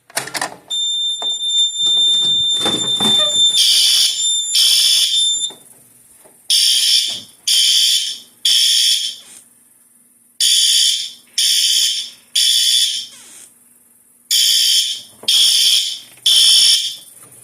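A loud Notifier NFS2-640 fire alarm system blares in a repeating on-off pattern of harsh, buzzing tones, with a steady high whine running beneath at first.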